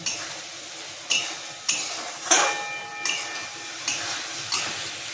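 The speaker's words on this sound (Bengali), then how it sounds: "এইভাবে আমি নাড়তে থাকবো যতক্ষণ না জলটা শুকিয়ে যাচ্ছে।" Rohu fish roe stirred in a pan as the water cooks off, a spoon scraping the pan in sharp periodic strokes about once a second over a faint sizzle.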